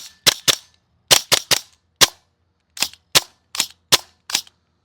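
An affordable airsoft gas blowback rifle fires in sharp, close cracks: two quick pops, then a tight burst of three, a single shot, and a final spaced string of five, each with a brief metallic snap and silence between.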